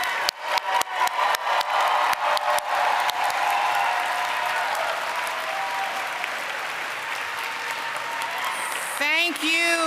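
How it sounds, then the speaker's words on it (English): Commencement crowd at an art and design college applauding its graduating class, starting with a few scattered claps that quickly swell into loud sustained applause with some cheering, then a voice briefly breaks in at the end. "Please join me in applauding the graduating class of 2024"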